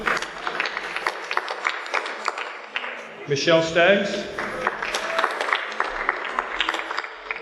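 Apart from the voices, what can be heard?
audience applauding students at awards ceremony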